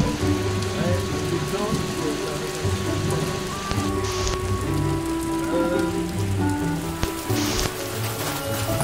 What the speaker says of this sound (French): On finit par prendre l'orage.